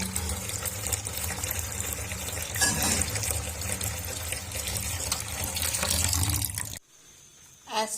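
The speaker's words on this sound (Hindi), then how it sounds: "पानी ऐड कर दिया।" Water pours steadily into a pot during cooking for a chickpea kofta gravy, a continuous close splashing rush that stops abruptly near the end, followed by quiet with a faint clink.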